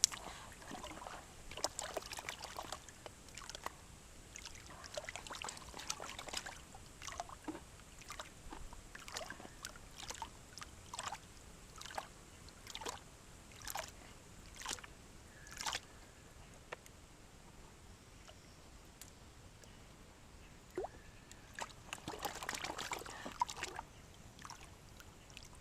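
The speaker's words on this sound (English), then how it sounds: "Agitating and then washing. A few rocks dropped into the pan." Gold pan being agitated and washed with water in the evening: repeated soft sloshing swirls and splashes, with small rocks clicking into the pan, faint and close with quiet pauses.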